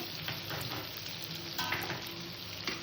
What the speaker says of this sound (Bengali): আলু পটল দিয়ে এবার কষে নিলাম